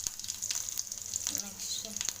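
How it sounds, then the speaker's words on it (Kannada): Crushed garlic dropped into hot oil with cumin in a pan, sizzling and crackling up close with light stirring clinks throughout. "ಸ್ವಲ್ಪ ಬೆಳ್ಳುಳ್ಳಿ ಜಜ್ಜಿ ಇಟ್ಕೊಂಡಿದ್ದೀನಿ, ಬೆಳ್ಳುಳ್ಳಿ ಹಾಕೋಣ"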